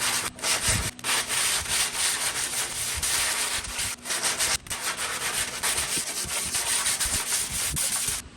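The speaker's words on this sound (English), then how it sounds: "Then I have a flat sanding block so we can hit this and see where our high spots and low" Flat sanding block rubbed over primer and guide coat on a Lexus body panel, steady rasping strokes in a continuous back-and-forth rhythm, close and loud with brief pauses between passes.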